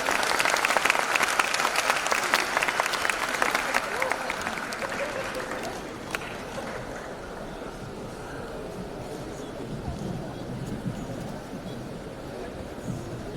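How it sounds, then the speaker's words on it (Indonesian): An audience at the Big Fair Bali 2025 event gives loud, dense applause that slowly fades to a lighter, steady clapping over about thirteen seconds. "boleh tepuk tangan yang meriah sekali lagi"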